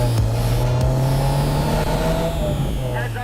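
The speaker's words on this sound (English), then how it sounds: "I love coming into these hairpin corners, jamming on the brakes, and just making the car do what I want to do." A 2022 Subaru WRX GT engine drones loudly as the car brakes into a hairpin, revs falling steadily, with a brief rise and tire noise near the end, heard from inside the cabin.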